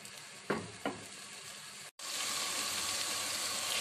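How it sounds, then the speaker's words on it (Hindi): Masala cooks in oil for mutton paya with goat brain, giving a close, continuous sizzle after a couple of stirring knocks and a brief pause, then steady frying hiss. "और इसको अच्छे तरीके से भून लेंगे।"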